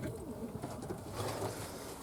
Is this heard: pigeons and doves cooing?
yes